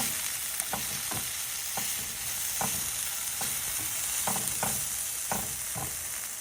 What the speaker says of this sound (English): now I just mix it up and let this get a little bit more brown